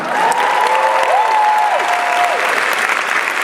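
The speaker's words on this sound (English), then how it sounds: "Everybody make some noise for Kimora" Loud, sustained audience applause and cheering at a drag show Q&A, filling the space, with a few whoops rising above the clapping.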